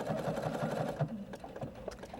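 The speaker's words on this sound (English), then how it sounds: "we're just stitching along the edge of the fabric to create that beautiful entredeaux stitch or hem stitching" Sewing machine running a decorative hemstitch along a fabric edge, close and steady with a fast rhythmic pattern of needle pulses, no talking.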